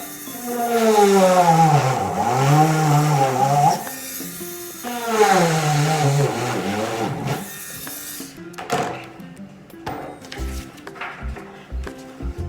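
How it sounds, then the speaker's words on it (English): A handheld power drill whirs loudly up to speed twice, its motor pitch sweeping down and back up while drilling into wood, followed by quieter clicks and short bursts as it stops and starts. "turn on my drill as I go."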